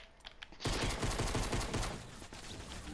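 Rapid automatic gunfire bursts out in a Fortnite match, a dense loud volley of shots lasting about two seconds after a few quieter taps.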